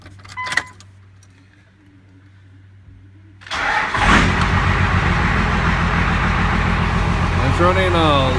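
A 12 valve Cummins diesel engine cranks after a few seconds of quiet and some key jangling, then catches and runs loud and close with a rough, uneven clatter; a voice speaks briefly near the start.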